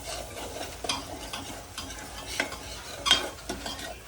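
Spoon stirring chili powder into a sizzling pan of masala for rajma rice, soft scraping strokes repeating over a low, steady fry, close and fairly quiet.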